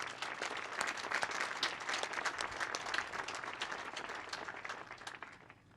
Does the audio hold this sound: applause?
yes